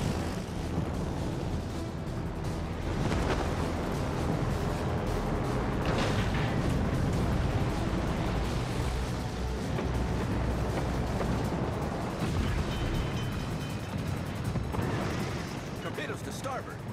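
Shells hit the Kaga aircraft carrier in World of Warships: Legends in a dense, continuous barrage of booming impacts and rumbling blasts, loud and close throughout, with battle noise layered over everything and a voice speaking beneath it.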